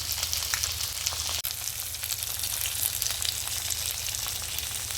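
Recheado-stuffed mackerel sizzling steadily in oil in a hot frying pan, a continuous close crackle with a single sharp tap partway through and no voices.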